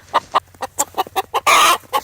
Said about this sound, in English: Shoo shoo. Ornery chicken.